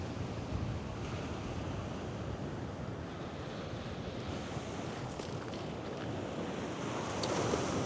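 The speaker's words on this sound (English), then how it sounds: "You can see the wind's coming from behind me. From the easterly direction." An easterly wind blows steadily on the beach at Bexhill, its broad rushing noise mixed with surf and buffeting the microphone throughout, swelling slightly toward the end.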